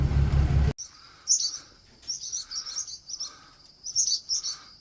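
Birds near their nest on a farm where hay bales are hauled chirp in quick repeated bursts, fairly close, after a brief loud engine rumble cuts off at the start.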